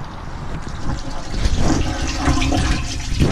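Water gushes steadily through a freshly cleared pipe, a loud continuous rushing and splashing flow that swells slightly midway and stays close throughout.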